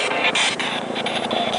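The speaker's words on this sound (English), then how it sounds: "Sorry about that noise in the background, guys. That's our hospital helicopter." A hospital helicopter passes overhead as a loud, steady rotor and engine drone with a rhythmic throbbing pulse, filling the background without any talking.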